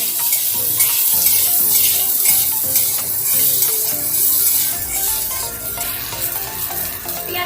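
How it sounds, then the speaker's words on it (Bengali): Diced onions fry in oil in a pan with a loud, steady hiss and crackle, broken by repeated scraping stirs of a spoon, close up and without talk. "পেঁয়াজগুলো ভাজা হয়ে গেছে।"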